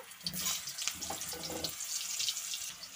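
Potatoes frying in hot oil for a chicken and potato curry, a bright hissing sizzle with a few soft clatters early on, close and steady over three seconds.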